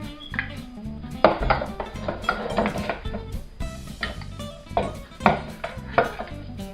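Chicken liver pâté spooned and scraped into ceramic ramekins, with repeated clinks, taps and scrapes of a utensil against the dishes at close range, no talking.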